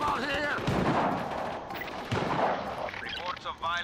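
Shotgun blasts in the Just Cause 3 video game, several loud booming shots in a dense, chaotic firefight with scattered gunfire and explosions around them, close and overlapping, with a voice speaking briefly.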